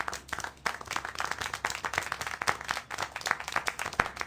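Quick, uneven handclaps in a video game patter throughout, fairly quiet, with no talking.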